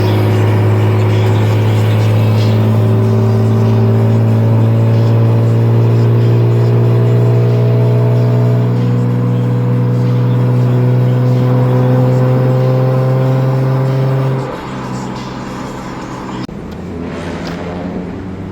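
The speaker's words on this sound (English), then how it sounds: "car's running, car's driving" A car fitted with a swapped engine, out on its first drive, runs with a loud, steady droning hum and a gradual rise in pitch as it pulls. It drops off abruptly near the end, with no talking.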